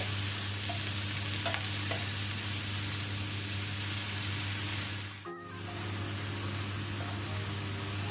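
Mushrooms stirred and sautéed in a pan over medium-high flame, a steady loud sizzle of frying with a brief scrape of stirring midway.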